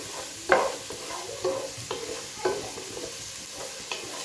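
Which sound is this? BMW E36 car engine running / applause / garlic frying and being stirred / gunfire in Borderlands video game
garlic frying and being stirred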